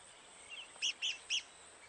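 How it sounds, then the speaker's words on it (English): A red-cockaded woodpecker calls from a loblolly pine on a military training ground: three short, high chirps in quick succession, faint and distant with no other sound around them. "The rare red cockaded woodpecker lives in this loblolly pine."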